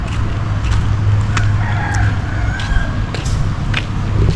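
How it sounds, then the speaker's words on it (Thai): A rooster crows at a scout camp park, its calls bright and fairly near over a constant low rumble of traffic, with no speech. "เห็นปะคือจะมีไก่ มีไก่ตลอด"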